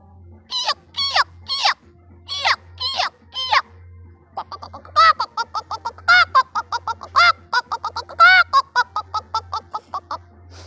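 Two birds call back and forth, a first bird giving a short series of harsh repeated notes, then after a brief pause a second answering with a longer, faster run of loud calls, close and clear over a low steady hum.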